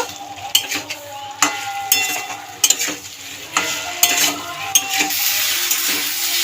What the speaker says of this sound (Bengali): আলু দিয়ে দিলাম এটাকেও মশলার মধ্যে দিয়ে অল্প একটু সময় ধরে মশলার দিয়ে ফের একটুখানি কষিয়ে নেব